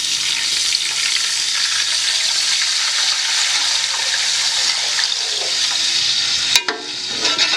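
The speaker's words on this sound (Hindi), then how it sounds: "अब मैं इसमें 4 गिलास पानी ऐड कर दूंगी।" Four glasses of water go into a hot pan of sautéed cumin rice, setting off a loud, close, continuous hiss and sizzle that cuts out abruptly near the end, then briefly resumes.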